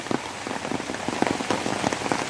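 Steady heavy rain pattering on colocasia, banana plants and other foliage in a garden in Phatthalung, Thailand, a dense continuous patter with no talking.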